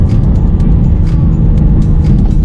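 A BMW M4 Competition engine pulling hard through the gears, with a loud, deep, continuous roar and short interruptions on each upshift, heard from close by.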